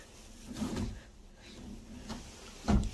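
A desk drawer in a four-star hotel room is slid open and shut a few times, with soft wooden knocks and scrapes close by in a quiet room.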